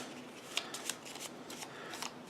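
A deck of game cards for a solo Vertium match is shuffled, giving a quiet, close run of soft riffling rustles with a few sharper flicks over about two seconds.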